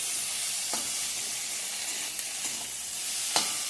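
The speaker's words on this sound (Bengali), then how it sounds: "এখন একটু ভেন্ডি ভাজা করলাম" Okra (bhindi) fries in a pan with a constant close sizzle and hiss, broken by a few sharp clicks of a spatula stirring.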